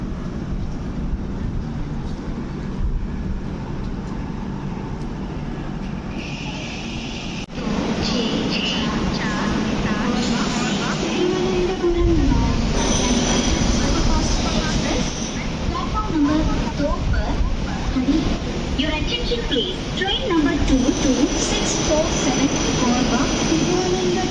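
Train 22647 rolls into Kottayam railway station in Kerala with a broad, steady rumble and rattle that swells partway through, while voices are heard at the platform.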